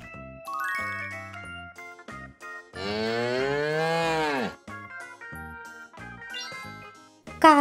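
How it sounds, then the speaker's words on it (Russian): A cow gives one long, loud, drawn-out moo in the middle, set between bright chiming notes of a children's animal sounds tune. "Корова."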